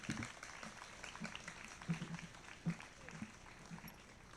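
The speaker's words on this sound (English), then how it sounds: "Could we please give all the prize winners one final round of applause" Faint applause from an audience at a lower school prize-giving ceremony, a scattered patter of clapping with a few louder thumps, heard at a distance and mixed with low murmuring voices.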